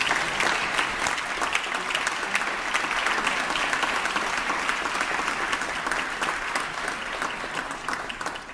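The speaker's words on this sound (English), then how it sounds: "members, please give a big round of applause to my mother, Maria Luisa Covarrubias." Assembly members on a legislative floor give sustained applause for a speaker's mother, a dense wash of clapping that holds steady for several seconds before tapering slightly.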